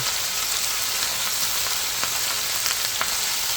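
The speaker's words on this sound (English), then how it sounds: "I'm gonna sear the beef for maybe a minute or two on both sides" Beef sears in a hot pan for a Filipino beef mechado, giving a steady, loud, crackling sizzle with small pops scattered throughout.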